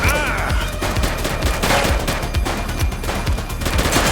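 Rapid bursts of gunfire from a police shootout in The Precinct video game, with dense overlapping shots cracking loudly and continuously across the whole stretch.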